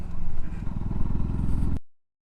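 A KTM Duke 160 motorcycle engine idles and putters at low speed, around 30, with a steady, rapid low thumping, fairly close, then cuts off abruptly.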